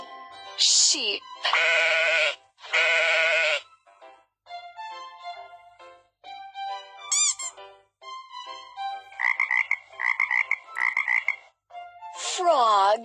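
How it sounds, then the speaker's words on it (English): A frog croaks in a series of short, close calls, some single and some in quick clusters, with a few loud bleat-like cries near the beginning and the end. "Frog."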